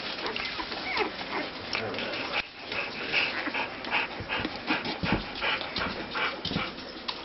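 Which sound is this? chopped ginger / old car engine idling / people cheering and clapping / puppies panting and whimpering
puppies panting and whimpering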